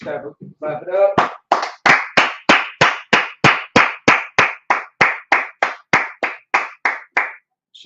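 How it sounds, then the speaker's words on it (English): A group claps in unison at a scripture and law class in Harlem, New York, with a couple of loose claps first and then about twenty sharp, evenly timed claps close to the microphone before they stop abruptly. "Let's clap it up."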